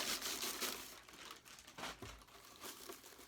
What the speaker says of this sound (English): Get the plastic off